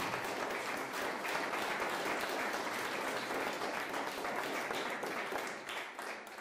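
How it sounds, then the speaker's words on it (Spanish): A church congregation claps in a long, dense burst during a sermon, the applause full and sustained with no break, thinning only slightly near the end. "Dale ese aplauso al Señor."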